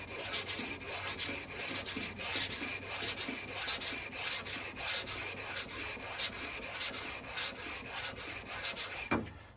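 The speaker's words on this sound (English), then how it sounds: "this is a sanding beam with a 12-inch radius" Steady, even sanding strokes rasp back and forth against a wooden guitar fretboard, using a 12-inch radius sanding beam, for several seconds, close and continuous, ending with a sharp knock.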